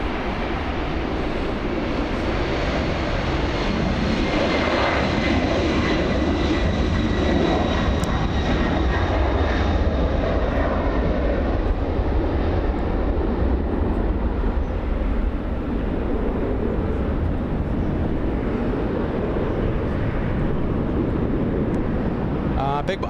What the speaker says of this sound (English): 767 heading to JFK